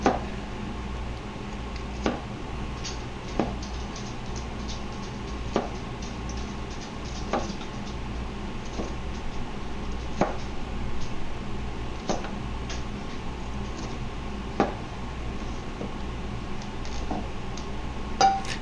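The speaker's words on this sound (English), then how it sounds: "I'm going to chop the base off, and I'm going to cut the florets into 2 to 3 pieces each" A knife chops broccoli on a cutting board, trimming the base and cutting the florets into pieces, with sharp, evenly spaced taps every second or two over a low background hum.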